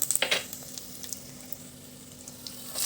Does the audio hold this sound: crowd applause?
no